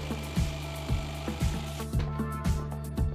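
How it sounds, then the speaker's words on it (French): A jigsaw cutting a circle in a bathroom ceiling panel, its motor humming under regular rhythmic thumps about every half second, moderately close with no talk. "Vous pouvez utiliser une scie sauteuse."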